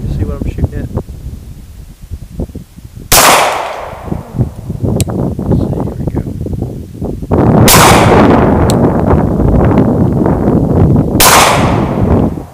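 Three loud Glock pistol shots ring out at about 3, 7.5 and 11 seconds, each sharp crack followed by a long ringing tail, with someone talking throughout between and over the shots.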